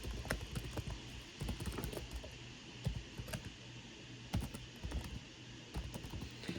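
Computer mouse and keyboard clicking at a desk, a quick scatter of soft, close taps and clicks at low volume, with no voices.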